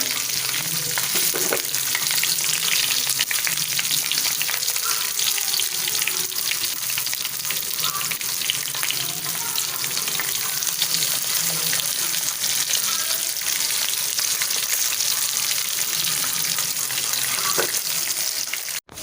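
Farm fish rubbed with turmeric, salt and lemon fry in a pan on curry leaves, giving a loud, dense, continuous sizzle and crackle close by with occasional clinks.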